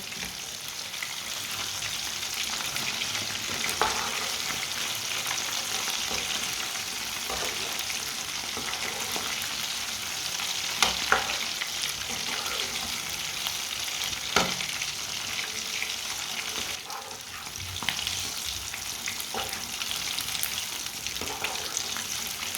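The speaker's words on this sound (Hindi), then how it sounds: "अब इसी तरह फ्राई कर लेंगे, उल्टाते पलटाते ना दोनों साइडों से" Fish pieces fry in a pan of oil, turned from side to side, giving a dense, continuous crackling sizzle with occasional clinks and scrapes as the pieces are flipped.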